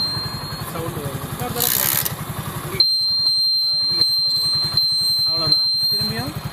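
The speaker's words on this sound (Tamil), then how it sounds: "வண்டியை ஸ்டார்ட் பண்ணியாச்சு, இண்டிகேட்டர் போட்டாச்சு, இண்டிகேட்டர் சவுண்டு வருது" A TVS XL 100 moped idles with a steady low engine pulse, while a repetitive high-pitched indicator buzzer tone sounds continuously through much of the clip, close and fairly loud.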